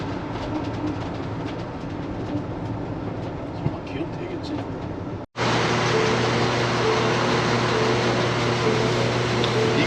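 A train rolls past close to a riverside campsite, a steady loud rumble with a low hum that cuts out briefly midway then returns louder and denser, with some voice activity mixed in.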